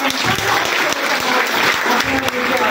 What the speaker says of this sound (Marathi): यांच्यासाठी आपण एकदा टाळ्या वाजूया.